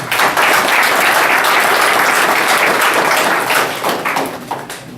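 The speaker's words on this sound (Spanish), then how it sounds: "para quien pido fuertes palmas" A book presentation audience applauds loudly and steadily for a guest, a dense wash of many hands clapping together that holds for several seconds and then thins toward the end.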